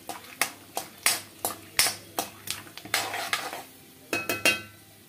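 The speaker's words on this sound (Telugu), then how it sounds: "ఫస్ట్ పల్లీలు వేసుకుందాము. చక్కగా కలిపేసేసుకుందామండి." Peanuts being stirred in hot oil in a pan while making upma, with a utensil scraping and clinking against the pan in a quick, irregular series of sharp, close taps.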